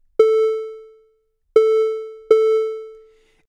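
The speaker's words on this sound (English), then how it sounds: "let's change the type of the oscillator to the triangle wave" Three separate electronic tones from a triangle-wave oscillator, each starting sharply and fading out, with a pure yet slightly buzzy quality and nothing else around.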